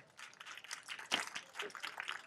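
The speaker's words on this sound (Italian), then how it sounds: "Accogliamoli con un applauso." An audience at a regional women's award ceremony in Leporano claps to welcome guests, a faint, fairly distant patter of applause with a brief louder swell.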